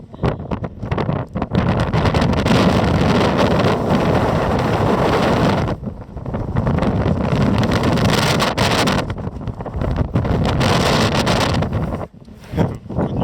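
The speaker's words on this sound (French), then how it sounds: "avec beaucoup de vent et aussi des nuages." Strong gusting wind roars across the microphone during a trek up the Concepción volcano on Ometepe, Nicaragua, a loud continuous buffeting that briefly dips twice before surging again.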